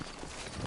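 Horse hooves clip-clop briefly on a town street in the Western video game Red Dead Redemption, set in New Ulm, a short close burst of steps over steady background noise.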